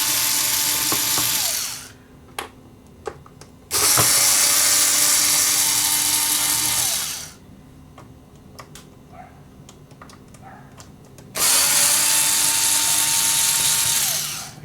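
Power tool whirring on screws of a vintage GE C4390 clock radio: three loud sustained spinning runs separated by quieter gaps with small clicks and handling noise, close up and without speech.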